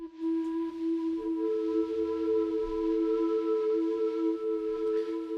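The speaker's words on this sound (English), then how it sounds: "And the one on the right is going to give us this pad sound." A synth pad sequenced by Waymaker in Outgrowth holds a smooth, steady chord with a second tone joining after about a second, sustained evenly throughout at moderate level without speech.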